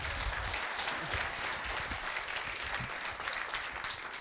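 Sustained crowd applause after sponsors speak at an opening ceremony, a dense steady patter of many hands clapping with a few louder claps standing out, fairly close and continuous.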